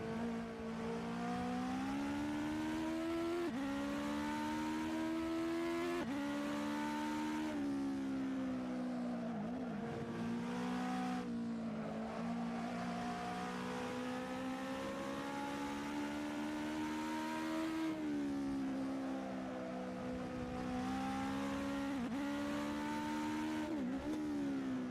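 Cars drifting in the Assetto Corsa racing game, steady loud engine drone that rises and falls in pitch with repeated gear shifts and revs throughout, no talk.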